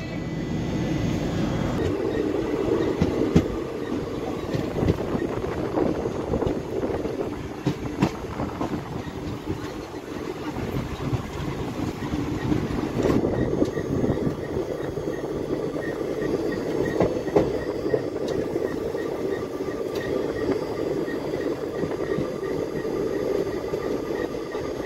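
The Koyna Express travels from Kolhapur to Pune near Lonand and Nira, with a steady, loud rumble of moving coaches, rhythmic wheel clatter and continuous rail noise throughout.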